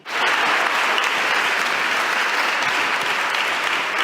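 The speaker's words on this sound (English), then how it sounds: "So the round of applause has confirmed" Audience applause at an education and school innovation conference swells up quickly and holds as a dense, even wash of clapping from a large crowd.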